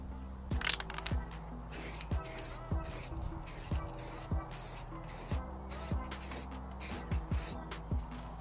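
Repeated short hissing bursts of spray paint being applied to car wheels of a 2025 Civic, about a dozen evenly spaced pulses, close and moderately loud over a low background hum.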